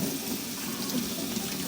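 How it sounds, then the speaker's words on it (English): Freshly harvested onions are rinsed under a running kitchen tap, a steady, close rush of water with no talking. "let's rinse it off a little bit"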